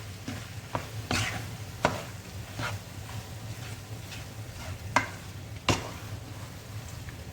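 Chicken in a frying pan is stirred on low heat, with a quiet sizzle under occasional sharp scrapes and knocks of the utensil against the pan, close and without talk.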